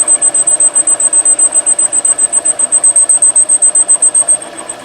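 A metal lathe on auto feed takes a clean cut on a Mustang engine part, producing a steady high whine with a rapid pulsing rhythm that eases off at the end, close and alone.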